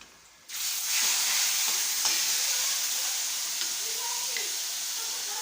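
Boiled taro dropped into hot oil with garlic, onion and black cumin, bursting into a loud, close, steady sizzle after a brief quiet moment, with faint spatters and clicks throughout.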